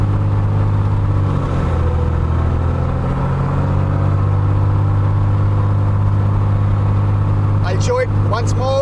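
Aircraft propeller engine running steadily, its drone shifting downward as the propeller moves to coarse pitch and RPM drops; a loud, close, continuous hum with a faint voice near the end.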